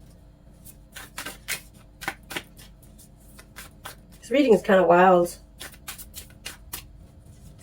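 Oracle cards being shuffled in quick riffling bursts, with a person speaking briefly partway through.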